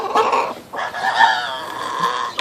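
Production Red hens cluck and croon in short, close bursts, a couple of hens vocalizing one after another with a brief pause between.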